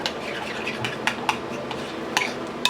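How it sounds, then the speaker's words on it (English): A quick stir of broccoli beef cooking in a pot, with several short scraping clinks of a utensil against the pot over a steady background, fairly close and moderately loud. "I want to give this a stir."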